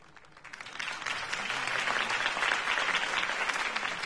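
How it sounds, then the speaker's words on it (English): Steady crowd applause in the video game Batman: The Telltale Series swells in after a quieter start and holds at a full, dense clapping level throughout. "If only Mr. Wayne, my campaign's largest backer, could have heard that applause"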